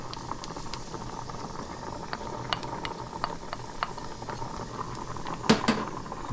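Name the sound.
thyme, onion and hot pepper sautéing in butter and oil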